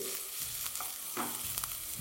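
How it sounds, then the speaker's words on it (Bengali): Onions frying in a pan for dahi bhindi, a soft bed of sizzling oil punctuated by several quick scraping stirs of a spatula. "এপাশে দেখুন পেঁয়াজটাও বেশ ভালো করে ভাজা হয়ে গেছে"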